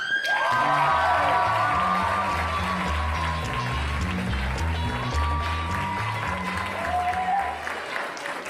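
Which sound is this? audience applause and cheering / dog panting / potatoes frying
audience applause and cheering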